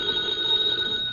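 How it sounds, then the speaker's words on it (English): An old-fashioned telephone bell rings once in a brief, bright trill inside an old-time radio comedy scene, clear and alone with no voices over it. "and he got a phone call."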